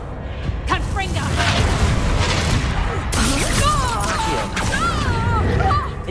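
A magical Confringo blast spell in Hogwarts Legacy, loud explosive booms and crackling bursts layered with swooshing effects and game music, while voices talk over the action.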